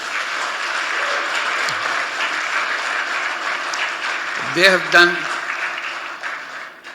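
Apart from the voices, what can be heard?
audience applause for young people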